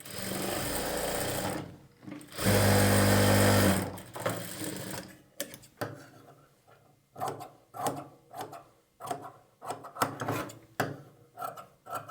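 A sewing machine stitches a blouse lining to the main fabric, first in steady loud runs, then in short separate bursts with pauses between them.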